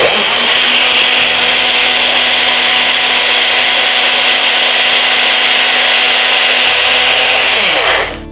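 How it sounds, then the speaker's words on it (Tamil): A mixer grinder whirs loudly and continuously as it grinds Malabar nut leaves with five or six cardamom pods, a harsh steady motor drone that winds down at the end. "நம்ம ஒரு 5-6 ஏலக்காய் இதோட சேர்த்து அரைச்சிடலாம்."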